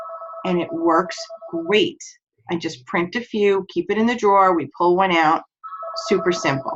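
A telephone rings with a warbling electronic trill at the start and again at the end, while a person keeps talking over it at close range.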